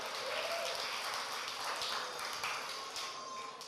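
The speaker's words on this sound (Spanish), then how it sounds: "Un aplauso para Cristian" Audience applause for Cristian at a spiritual talk, a steady wash of clapping from many hands held at a constant level for the whole stretch.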